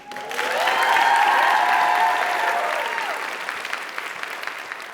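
Audience applause at a tech nonprofit demo day swells quickly to a loud, steady wash of clapping, then gradually thins and fades, with a faint tonal sound lingering briefly underneath.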